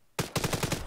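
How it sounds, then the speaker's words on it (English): A police officer in a video game firing a rapid burst of gunshots, loud and close, about six evenly spaced shots in quick succession right after a brief quiet start. "Oh, I better take my mask off because he's gonna shoot me."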